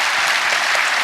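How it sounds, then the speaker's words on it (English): Steady, dense applause from an audience at a 2016 Santa Barbara International Film Festival awards tribute, loud and continuous throughout with no voices standing out. "let's say it out loud and give him a round of applause"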